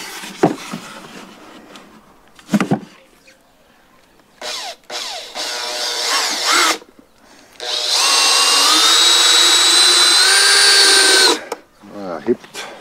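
Power drill driving screws into a wooden nest box: a few brief whirs, then one sustained high whine lasting several seconds, with short bits of talk around it.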